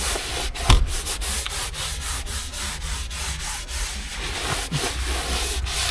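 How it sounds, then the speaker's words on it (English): A light cleaner is gently scrubbed across a surface while detailing a rare HSV GTS car, making steady rhythmic rubbing strokes, close and fairly soft, with one brief louder knock early on. "this is just a nice light cleaner. Very gentle scrub."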